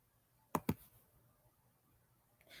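Two quick computer mouse clicks, made while borrowing a library book online, sound close and crisp over a quiet background, followed by faint rustling.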